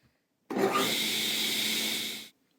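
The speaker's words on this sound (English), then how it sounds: "we're going to be ripping our frame boards down to just over our finished dimension" Boards for a slat wall frame being ripped down on a saw: a single continuous cutting pass of about two seconds, loud and steady with a bright whine, starting and stopping abruptly with silence around it and no talking.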